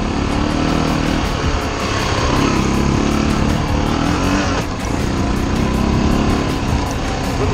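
An army Harley motorcycle engine runs loud and steady while riding off-road, with no clear pause for gear changes.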